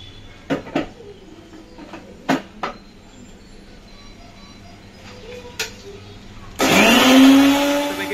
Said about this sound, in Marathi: मिक्सर का लावता मिरची